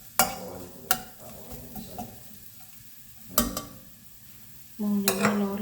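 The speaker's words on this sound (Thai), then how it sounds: "หม้อยังไม่ร้อนเลยใส่กระเทียมลงไปแล้วพี่น้อง" Garlic goes into a pot that is not yet fully hot for a stir-fry, with several sharp metal clanks of a utensil against the pot and a soft sizzle that swells near the end, close up with no talking.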